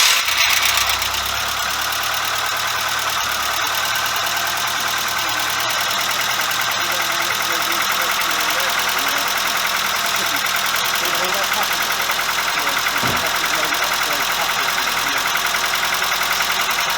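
A Volkswagen Golf MK2 engine idles on its first start after a cylinder head gasket job, running steady and close with a light, rapid tappet ticking throughout and no talk.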